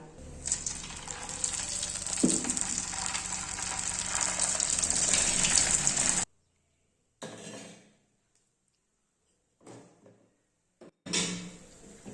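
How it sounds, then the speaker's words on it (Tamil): Cut idli pieces deep-frying in hot oil for Idli Manchurian, a steady loud bubbling sizzle for about six seconds, then broken by quiet gaps and short bursts of frying noise. "நம்ம கட் பண்ணி வச்சிருக்க இட்லியை பொரிச்சு எடுத்துக்கலாம்"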